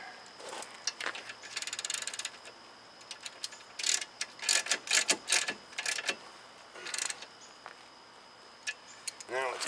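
A ratchet with a 19mm socket works on the steering rack of a 2012 Subaru Outback 2.5L, giving close bursts of rapid clicking pawl strokes in short irregular runs with brief pauses between.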